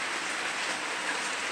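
Steady rain falls outside, a dense even hiss of drops on surfaces with no break, loud and continuous throughout.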